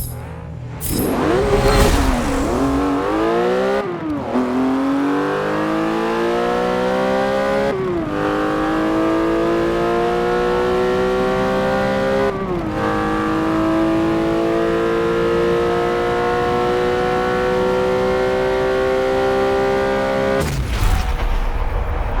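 2004 Porsche 911 GT3 in a Forza Motorsport 7 drag race, engine revving hard with rising pitch through repeated gear shifts, each marked by a brief drop, then cutting off abruptly at the finish.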